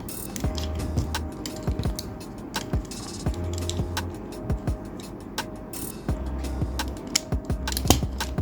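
Toy robot arm from a Time Robo Alpha megazord figure being rotated, giving a steady run of close ratcheting clicks with gear-like mechanical rattles.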